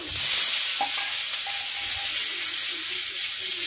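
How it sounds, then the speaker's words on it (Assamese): Chopped onion frying in hot oil in a kadai gives a steady broadband sizzle that holds at an even loudness throughout, with no talking over it. "তেলটো গৰম হ'ল, পিঁয়াজ কুচি দিলোঁ"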